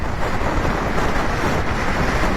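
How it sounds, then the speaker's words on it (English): Strong gusting wind roars across the microphone on a BMW GSA motorcycle ride in the Brecon Beacons, a loud, unbroken rush of buffeting noise with no voices. "the tractor is being picked by this wind and kicked around."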